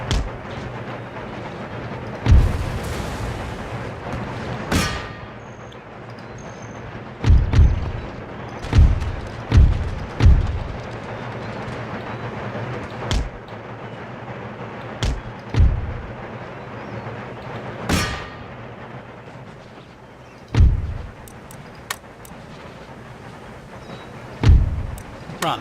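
Artillery fire in the video game Empire: Total War (Darthmod mod, Prussian campaign) sounds as scattered booms and thuds, some single and some in quick clusters, over a low background rumble for about half a minute.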